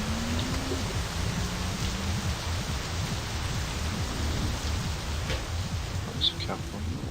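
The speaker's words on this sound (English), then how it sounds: "Oh, thank God the rain stopped." Rain falling in the video game My Summer Car, a steady soft hiss of drops with faint patter, continuous and even throughout at moderate level.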